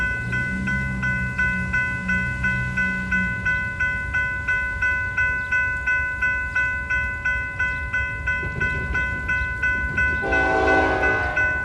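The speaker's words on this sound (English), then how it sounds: "Street running train." A train runs down tracks laid in a city street, its steady rumble and rhythmic clatter continuing throughout, with a loud, close horn blast near the end.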